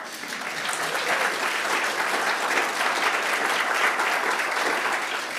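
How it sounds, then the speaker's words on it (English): Audience applauding a Bancroft Prize-winning historian at a talk: dense, even applause from a full room, loud and unbroken from start to finish. "I think we all owe John a big round of applause before we even get to the introduction, because it just received the Bancroft Prize"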